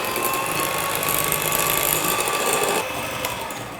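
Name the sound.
mixer whisking butter and sugar for cupcakes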